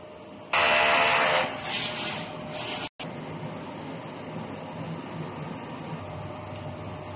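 A DTF printer running a nozzle test gives a loud, steady electronic buzzing whine for about two seconds, then shorter bursts, a brief cutoff, and a quieter continuous mechanical hum.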